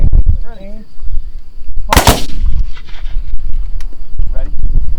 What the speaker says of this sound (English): What they're doing now is firing by file.